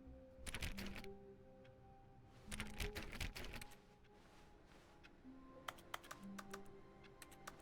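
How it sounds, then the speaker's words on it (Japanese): Computer keyboard keys clatter in short rapid bursts, one burst near the start and another mid-clip, then scattered single taps toward the end, fairly quiet against a low background tone. "キーボード音もたまに入るんだけど。"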